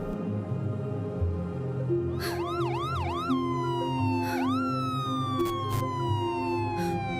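An ambulance siren wails with rapid rising-and-falling yelps that shift into longer sweeping tones, fairly close and steady over a low street rumble.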